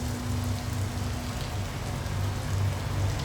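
Steady, dense rain falls continuously at close range, an even wash of drops with no voices and no gaps.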